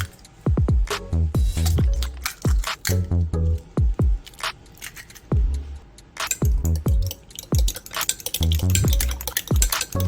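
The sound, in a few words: cracking eggs for an egg garnish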